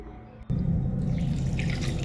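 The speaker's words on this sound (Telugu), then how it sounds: "2 గ్లాసెస్ వాటర్ పోసుకోవాలండి." Water poured from a glass into a pressure cooker holding mutton leg bones with chillies, onion and curry leaves: a brief faint drip, then a sudden steady splashing pour.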